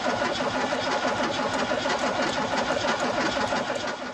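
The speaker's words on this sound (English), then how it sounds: "I've just just cranked over the engine to see whether any fuel would come out of the distributor" A barn-find Mercedes coupe engine cranks over on the starter, a fast, steady whirring chatter at moderate volume that runs continuously with no talk.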